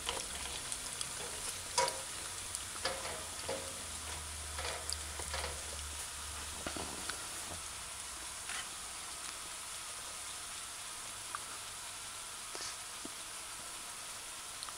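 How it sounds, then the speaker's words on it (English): Plantains frying in a pan on a stove set to medium-low give a steady, soft sizzle with faint crackles and occasional light stirring taps, close and continuous, no talking. "it will take around 6 minutes to fry these plantains"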